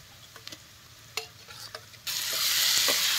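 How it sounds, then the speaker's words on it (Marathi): Chopped tomatoes and onion in oil over a wood-fired stove: a few light stirring clicks, then a sudden loud burst of sizzling that keeps hissing strongly to the end. "टमाटर बी तेलात चांगलं भाजून"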